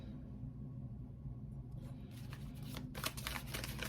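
A tarot deck is shuffled by hand, quiet low hum giving way to a series of crisp riffling card flutters in the last two seconds, close up.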